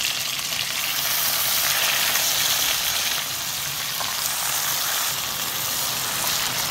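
Chicken pieces frying in butter with a little oil in a preheated pan, a steady, close, crackling sizzle that continues evenly throughout with no talking.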